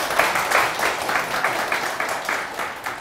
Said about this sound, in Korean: 박수 좀 보내주세요, 여러분들 진짜.